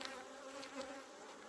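Honey bees inside a hive make a steady, dense buzzing drone that holds evenly throughout, close and moderately loud, with no voices.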